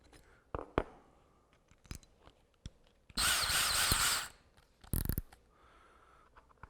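A drill drives a screw with no impact hammering: about a second of steady, loud whir in the middle, then a shorter burst, with scattered clicks and handling knocks around them.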